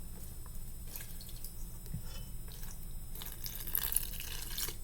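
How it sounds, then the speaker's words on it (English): Water trickling and dripping into a bowl of flour as bread dough is mixed by hand for an artisan loaf, a soft, steady liquid patter close by with light squishing, no voices. "gradually add water to the dough."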